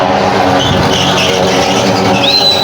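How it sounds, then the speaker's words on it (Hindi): Motorcycle engine circling the steep wooden wall of a maut ka kuan fairground show, a loud continuous droning roar with tire whine that swells and fades as the bike laps overhead. "मोटरसाइकिल चल रहा है जो ऊपर में, मतलब स्लोप पे मोटरसाइकिल चल रहा है"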